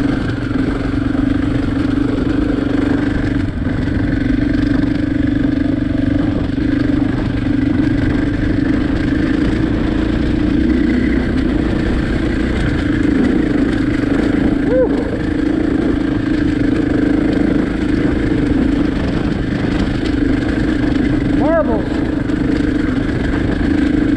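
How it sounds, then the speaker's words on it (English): Husqvarna 501 adventure motorcycle ridden through a riverbed in desert terrain, its mid-pitched engine droning steadily and close for the whole stretch, with clattering and splashing over rocks mixed under the engine. "Driving through a riverbed."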